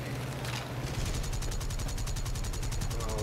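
Aircraft cannon fire in the War Thunder combat flight game, a rapid steady burst of regular thumping rounds over continuous engine drone, loud and close.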